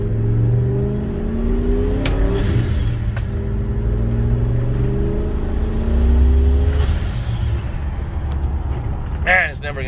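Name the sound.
turbocharged Ford F150 Lightning revving on a dyno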